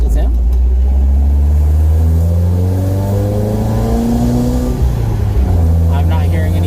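An old beater car's engine idles steadily with a low, even rumble and sustained hum, continuous throughout at close range.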